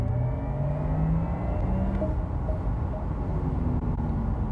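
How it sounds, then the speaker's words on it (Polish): A Porsche Taycan electric car drives by with its artificial motor sound, a synthetic tonal hum with rising and falling pitched whines over steady road rumble, close and continuous without speech. "podobno jest to dźwięk tych silników, które tutaj faktycznie pracują, tylko nagrany pod dużo wyższym obciążeniem, no i trochę zmodyfikowany"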